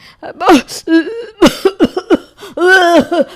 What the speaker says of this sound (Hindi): बार बार खांसी आ रही है ना